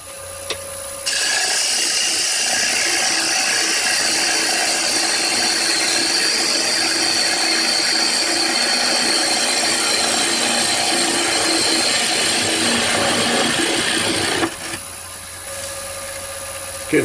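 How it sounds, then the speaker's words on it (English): A cherry bowl spinning on a wood lathe as a gouge cuts shavings, a loud continuous scraping hiss that holds steady for over ten seconds, then stops abruptly, leaving the motor's hum. "Getting some decent shavings off this"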